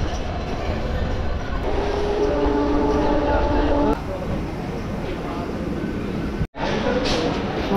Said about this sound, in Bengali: চলে এসছে আমাদের train Santragachi two Mecheda local